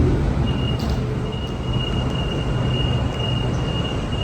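Sydney train pulling out of Circular Quay station, a steady rumble of rolling wagons close by with a thin high whine running over it, no talk.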